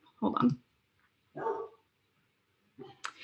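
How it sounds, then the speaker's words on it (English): Pet dogs barking indoors during an online accessibility talk, three separate bursts of barking at moderate distance with short silent gaps between them, the last ending in a sharper yelp. "there's my dogs"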